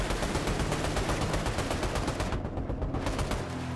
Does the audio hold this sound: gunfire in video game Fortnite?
yes